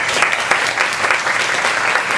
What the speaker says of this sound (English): please give our panelists a very big round of applause for being here today